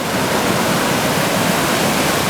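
River water rushes loudly through a rocky canyon as a dense, continuous roar, close and unbroken, with no voices.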